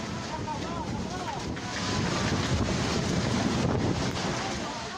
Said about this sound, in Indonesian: Rekaman video amatir warga menunjukkan detik-detik terjangan angin puting beliung di permukiman warga